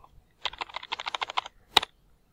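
Computer keyboard typed in quick bursts while entering a copy-paste shortcut for a Google Form exam question, a run of about a dozen close, crisp keystrokes ending in one sharper key press.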